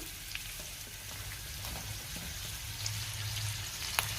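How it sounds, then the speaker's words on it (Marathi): Sliced onion sautés in a spoonful of oil in a pan, making a faint, steady crackling sizzle with a few soft ticks and pops, heard alone. "त्यात आता उभा चिरलेला कांदा घालते। आपल्याला कांदा परतून घ्यायचा आहे।"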